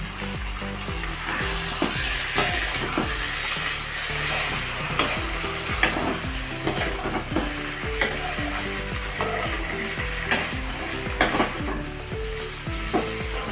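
Chilli, ginger, garlic and onion pastes fry loudly for a singi fish curry, a dense sizzle under continuous rhythmic scraping and clacking of a spatula against the pan, no speech.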